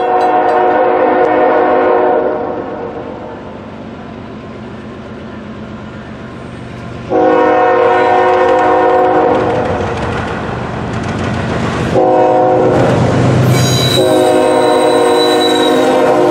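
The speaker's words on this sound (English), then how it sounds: "an eastbound daily intermodal train led by NS 8026 and 9660" An eastbound Norfolk Southern daily intermodal freight led by NS 8026 and 9660 passes close by, its horn blaring in several long blasts over a heavy rolling rumble and wheel clatter.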